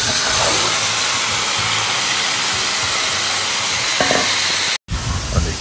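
A pan of free-range chicken and small steaks frying in a restaurant kitchen, a steady loud broadband sizzle and hiss that runs almost unbroken, cutting out abruptly for a moment near the end before resuming.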